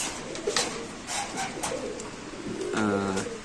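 Racer pigeons at a bird market coo near the listener, several soft throaty calls ending in one clear rolling coo, with faint background chatter.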